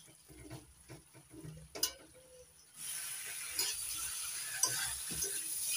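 Fried potatoes and cauliflower tipped into hot oil with spice paste and stirred, a few scrapes and clatters, then a steady loud sizzle that carries on under faint stirring noises.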